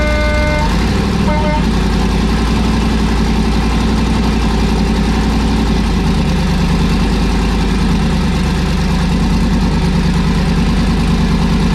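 An engine on a vehicle named Klaus idles steadily after refuelling, a loud, constant low rumble with a brief toot near the start.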